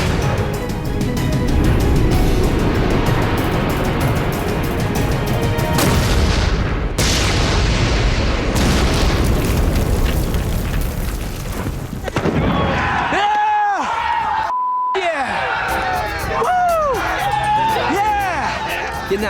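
Repeated heavy explosions from grenade-launcher hits on targets boom loudly and densely at first, then give way to scattered blasts and sharp bangs amid crowd noise and voices.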